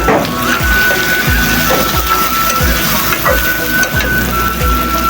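Fish dopiaza with tomatoes fries in a pan with a dense, loud, continuous sizzle. Faint clinks and stirring sound at close range, and no voice is heard.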